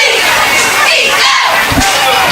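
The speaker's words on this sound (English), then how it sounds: "Great crowd here, as it is homecoming tonight" At a high school homecoming football game, Forest vs Clarkdale, a large crowd roars and cheers loudly and continuously, a dense wall of shouting voices throughout.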